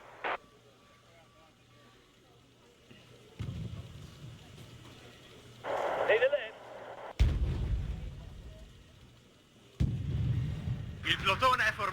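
Grenade launcher explosions in a strategy video game burst out as several loud, booming blasts spread across the stretch, with low rumbling tails and quieter battlefield noise in between.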